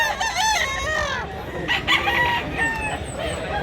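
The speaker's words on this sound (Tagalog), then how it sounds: "Gandang manok." A rooster at a Cebu fowl market crows repeatedly and loudly close by, its long wavering calls overlapping with other birds and faint background voices.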